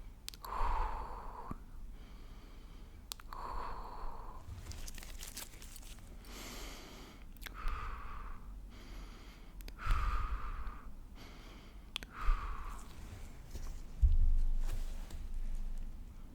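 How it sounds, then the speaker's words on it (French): Slow, paced breaths during an ASMR doctor roleplay exam, drawn in through the nose and let out through the mouth, soft close-up airy swells repeating every few seconds with quiet pauses between them, no talking. "Respirez par le nez, expirez par la bouche, longtemps."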